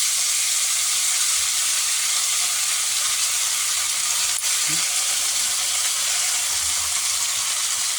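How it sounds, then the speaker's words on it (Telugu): Coriander frying in groundnut oil in a pan, a steady close sizzle and hiss throughout with a brief clatter midway, no talking. "ఆయిల్ వేసి గ్రౌండ్నట్ ఆయిల్ అయితే బాగుంటుంది. ఈ క్లీన్ చేసిన కొరియాండర్ ఇందులో వేస్తాము."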